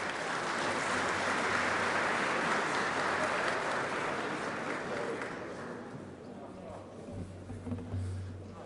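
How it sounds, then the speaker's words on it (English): A large conference audience claps steadily and loudly at a distance, the applause gradually thinning out toward the end. "So please, very warm applause for Mr. Komšić."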